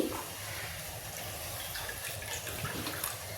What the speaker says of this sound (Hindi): अब इसमें डालेंगे थोड़ा सा पानी